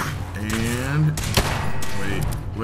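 Gunfire in the video game Fallout 4, a short burst of shots and impacts over a steady game soundtrack, with a voice speaking over the action.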